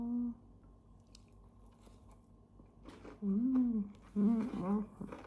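Yogurt mixed with chocolate granola is eaten up close. Soft crunching and chewing come in short bursts after a quiet stretch, with a faint hum underneath.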